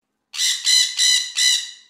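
A cartoon parrot's call rings out as four quick, bright squawking pulses in a steady rhythm, close and loud against silence.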